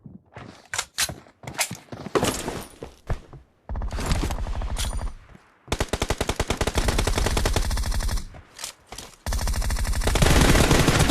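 Gunfire in a team-based shooter video game: bursts of rapid automatic fire and single shots, loud and close, with brief gaps between volleys and sustained streams of shots later on.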